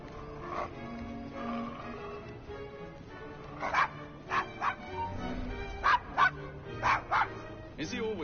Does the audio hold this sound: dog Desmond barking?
yes